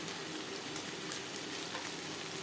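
Spices for a puti fish curry fry in a pan and are stirred. A dense, even sizzle holds close and steady throughout, with faint scraping beneath it.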